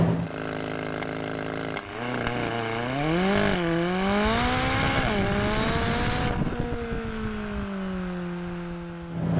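A McLaren 570S with a twin-turbo 3.8-liter V8 drives hard, engine revs climbing and falling through gear changes, loud and close, then settling into a steady drone, no voices.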